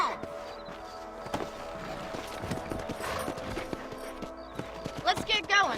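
Horse hooves clip-clop at a steady trot amid Red Dead Redemption game ambience, with a brief whinny-like sound near the end.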